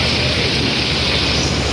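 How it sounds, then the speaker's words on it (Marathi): Heavy rain pours in a loud, unbroken hiss that saturates everything, a dense steady wash with no pauses and no voices. "पाऊस खूप जोरात आहे भाई"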